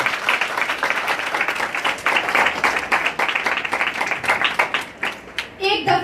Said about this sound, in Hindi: आइए उसके जलाल के लिए जोरदार तालियां बजाइए